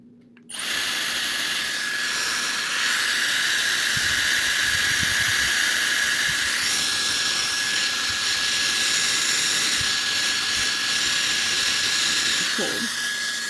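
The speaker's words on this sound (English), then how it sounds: "set cool mode, and direct airflow over the finished style set" Dyson Airstrait hair dryer-straightener in light pink blowing air on cool mode, a loud, steady high-pitched whooshing whine that switches on abruptly and runs continuously, close to the listener.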